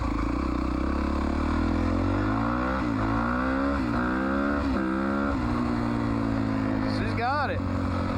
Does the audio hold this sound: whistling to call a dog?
no